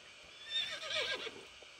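A Percheron horse in a video game gives a single neigh, a rising and falling whinny lasting about a second, moderately close and heard alone with no talk.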